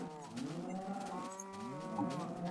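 A cow in the video game Minecraft moos in a long, wavering low call that runs almost continuously, loud and close with no talk over it.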